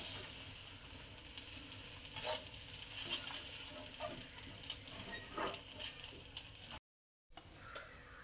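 Egg-dipped bread fries in a pan with ghee, giving a steady close sizzle with light crackles and stirring scrapes, then a brief silence before the frying resumes.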